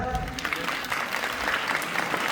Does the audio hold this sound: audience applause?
yes